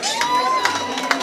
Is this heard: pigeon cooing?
no